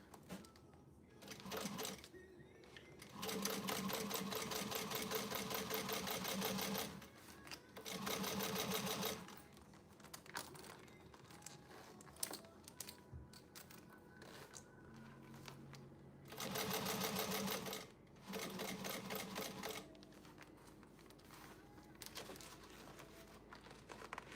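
A sewing machine stitches fabric in several long bursts separated by pauses, with quieter handling noises between runs and no talking.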